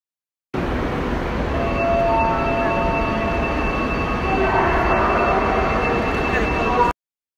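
A metro train pulls into Jingman station, its steady broadband rumble and faint wheel hum running close and loud for about six seconds, with thin tonal whines from the rails and motors over the top.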